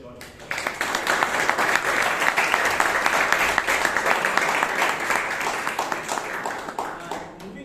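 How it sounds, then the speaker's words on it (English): A round of applause breaks out at a Toastmasters club meeting in Bangalore, starting abruptly after a brief quiet moment and holding as a steady, moderately loud patter of many hands before tapering slightly at the end. "So please put a big round of applause for George."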